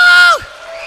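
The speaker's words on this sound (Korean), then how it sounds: "소리 질러!" A church congregation at a Sunday afternoon praise service shouts and cheers, a loud sustained whooping cry that sweeps downward and breaks off, leaving a quieter murmur of voices behind.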